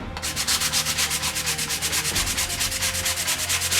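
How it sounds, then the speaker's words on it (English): Steady rhythmic sanding of a 3D-printed sword piece, a rapid back-and-forth scrubbing on a hard surface, close and continuous with no voices. "The more time you spend sanding a piece and prepping it for paint will make a massive difference"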